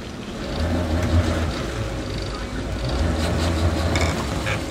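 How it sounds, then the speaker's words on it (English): Harris FloteBote pontoon boat engine revving with the throttle pushed forward in neutral, drive disengaged: a steady, close, loud rumbling drone for a few seconds. "If you push that button in and hold, you can now push the throttle forward without engaging the shaft or the drive."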